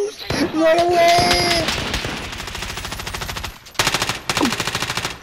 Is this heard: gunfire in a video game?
yes